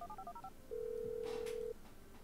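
A phone dialing in GTA V to set off explosives, a quick run of keypad tones followed by a long steady dial tone, clear and isolated with no talking.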